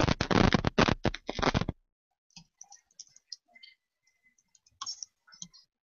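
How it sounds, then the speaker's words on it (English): Keyboard typing on a computer during an online group call, sparse light clicks and taps at a moderate distance, following a stretch of loud speech at the start. "There, I'm typing there."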